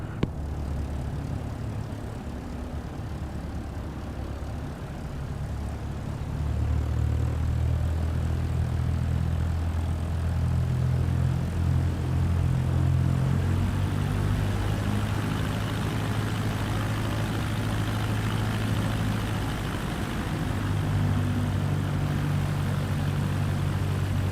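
A small propeller training aircraft taxiing toward the hold short point, its engine a steady low drone that swells slightly partway through and holds at a constant level, with no voices.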